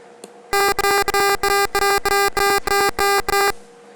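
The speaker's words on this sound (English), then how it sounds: "so this alarm sound will be heard" A micro:bit motion sensor alarm beeping loudly in a fast, steady series of about ten harsh buzzing pulses, close and continuous for several seconds.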